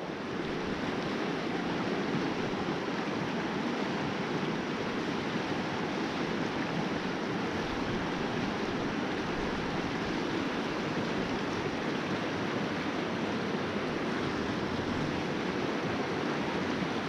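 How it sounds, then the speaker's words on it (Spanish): Fast, icy river water rushes without pause in a dense, broad roar, close to the microphone, steady for the whole stretch with no voices. "Y el agua está súper rápida, y helada."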